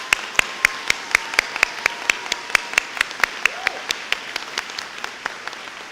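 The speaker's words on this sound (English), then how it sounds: "Please join me in a big round of applause for the top 10." Graduation audience at a high school ceremony applauding the top 10 students, a steady run of clear, evenly spaced claps over a murmuring crowd.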